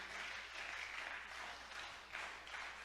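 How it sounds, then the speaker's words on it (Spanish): A church congregation applauding, a faint, steady wash of clapping heard from a distance that swells and eases over a few seconds. "Dale un aplauso a Cristo,"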